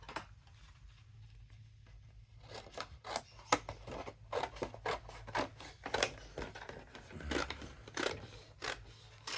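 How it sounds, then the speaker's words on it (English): Scissors cut through stacked paper sheets to make lids for a handmade candy cane box, a brisk run of close, crisp snips in an uneven rhythm, with no one speaking. "I'm going to cut these out at the same time."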